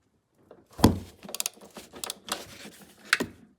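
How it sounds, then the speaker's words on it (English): Strut nuts on a 2007-2011 Honda CR-V being worked loose with a ratchet, a few close, sharp metallic clicks and creaks in short irregular bursts with quiet gaps between. "we have these 5 nuts, so we're gonna remove them"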